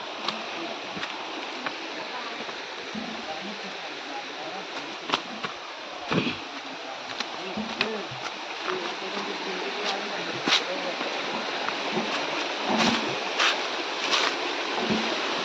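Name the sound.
flowing stream water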